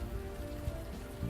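Pouring rain in the video game Unavowed drums down as a steady, dense hiss of drops on hard surfaces, even and unbroken, with no voices.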